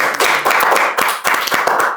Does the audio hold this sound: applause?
yes